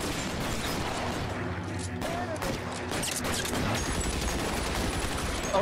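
A Tommy gun rattles off in L.A. Noire, a sustained clatter of rapid automatic fire at a steady moderate level, with voices talking over it.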